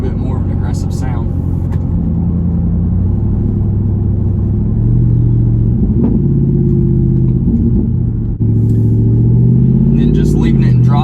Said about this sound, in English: Leaving it in drive, accelerating up to about 45 slowly.